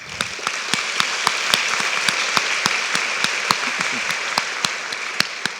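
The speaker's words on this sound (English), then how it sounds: "So give yourself a round of applause." Guests at a Hsieh Nien Fan banquet addressed by President Tsai Ing-wen clap together, a continuous roomful of applause with sharp individual claps standing out near the microphone.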